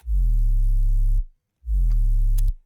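Two long, loud blasts of heavily distorted 808 bass, saturated by Camel Crusher tube and compression, each about a second long with a short gap of silence between them.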